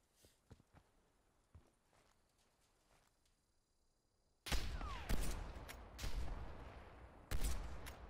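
Sniper rifle fire in a one-versus-one quickscope match in an online shooter, loud sharp bursts of shots arriving suddenly after a quieter stretch of faint footsteps and small clicks.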